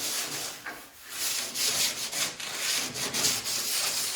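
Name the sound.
light scuffing of car paint by hand to dull gloss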